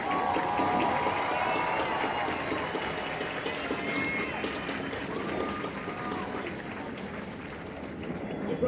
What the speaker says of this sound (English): How about a vigorous round of applause for these guys and girls here, huh?